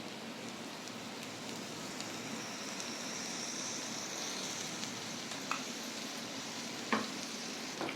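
Ginger garlic paste frying with softened onions for prawn gravy, a soft, even sizzle like light rain running throughout, with a couple of faint stirring clicks near the end.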